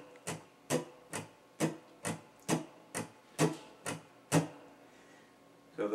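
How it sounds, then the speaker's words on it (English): A guitar is strummed with simple downstrokes in an even, steady beat, about a dozen crisp strokes each fading quickly, quiet and alone. "The strumming on the right hand is going to be very, very simple, all downstrokes just as you saw."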